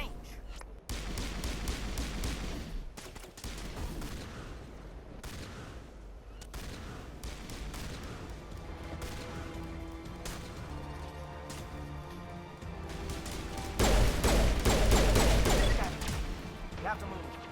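Rapid bursts of gunfire from Geth turrets in the Mass Effect video game, dense and continuous over a rumbling battle backdrop, swelling louder near the end, with voices talking beneath the combat.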